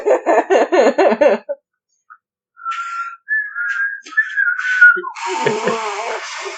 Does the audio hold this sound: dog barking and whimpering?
no